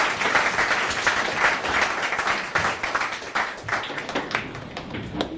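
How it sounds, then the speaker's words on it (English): An audience at a London startup investor pitch event gives a round of dense, steady applause that thins toward the end. "A round of applause for CcHUB."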